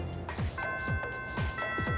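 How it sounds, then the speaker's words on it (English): A school bell chimes in Persona 3 Reload with a bright, sustained tone that rings on for over a second. Soft repeated descending blips sound beneath it. "The first bell has rung."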